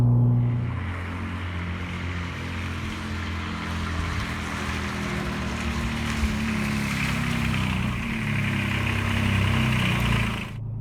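A small 719 cc Kubota diesel engine in a Honda Insight drones steadily with a low, throaty exhaust rumble throughout, loud and close, with no talking.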